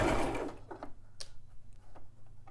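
A Brother LX3817 sewing machine runs a blind hem stitch along a folded fabric edge, giving a quick, soft ticking and whirring patter of needle strokes at close range after a louder opening burst.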